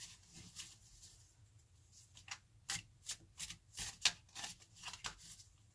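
Tarot cards are shuffled and drawn from a deck in a quiet room, a run of soft papery riffles and crisp flicks that grows busier toward the end, close and faint with no talking.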